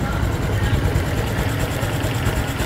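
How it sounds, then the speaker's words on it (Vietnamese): A 2016 Honda Super Dream motorcycle idles close to the microphone, giving a steady, loud low rumble with a continuous mechanical rattle throughout. "Khi mình để gần nó sẽ có những cái tiếng xào động cơ khi mình quay clip gần"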